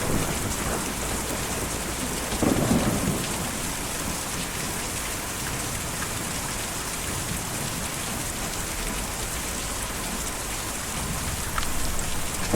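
Steady heavy rain pours down with a dull rumble of thunder in the video game Kentucky Route Zero, a dense continuous hiss with a brief low swell partway through.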